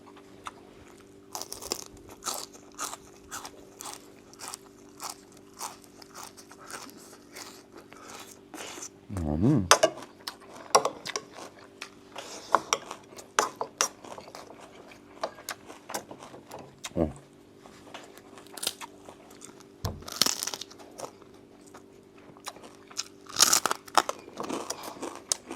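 Crunchy chewing and biting while eating a home meal, with close crisp bursts scattered among clinks of cutlery and dishes, and people talking intermittently.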